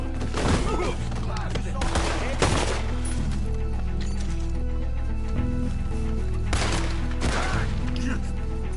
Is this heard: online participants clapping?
no